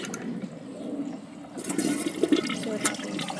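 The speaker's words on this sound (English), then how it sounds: "I'm going to give it another flush." A new toilet tank flushes, its water rushing loudly and steadily before a gurgling surge and draining swirl, with no talking over it.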